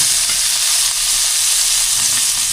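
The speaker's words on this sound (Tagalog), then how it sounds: "Luto na po yung ating piniprito. Haluin na po natin para makapag-sarsyado na po tayo." Fish and shrimp frying in hot oil in a pan while being stirred, a steady dense sizzle with faint scraping underneath, close and loud throughout.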